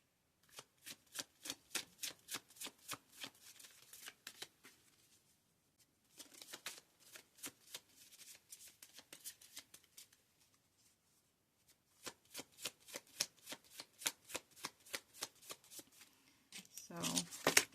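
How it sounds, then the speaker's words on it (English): A deck of cards being shuffled over and over, crisp rapid riffling clatters in three bursts separated by short pauses, close and fairly quiet, with no talking. "I'm going to shuffle a few more times"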